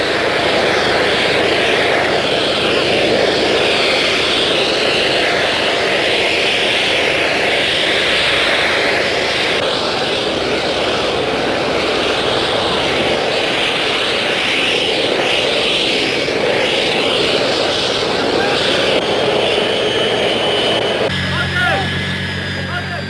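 Aircraft engines roar steadily in footage of the 1974 Egyptian Suez Canal crossing, a loud continuous drone lasting throughout with a change in tone near the end.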